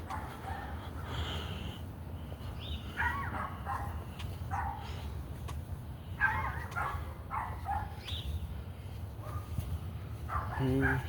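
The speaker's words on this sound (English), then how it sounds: "looks like the dogs are waking up. They're not my dogs, they're neighbor's dog." Neighbouring dogs bark on a morning walk outdoors, a scatter of moderately distant barks and yips with occasional whimpers over a low ambient rumble.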